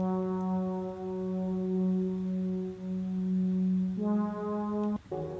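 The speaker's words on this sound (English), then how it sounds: "is this pad. And it just sounds like this by itself." A soft, sustained ambient synth pad holds one chord, then shifts to a second chord near the end, smooth and quiet with no voices.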